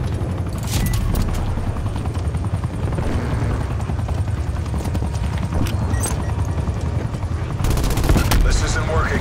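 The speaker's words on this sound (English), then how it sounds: "Enemy attack helo." An enemy attack helicopter roars in the video game Call of Duty, a dense, loud rotor thrum layered with bursts of gunfire throughout.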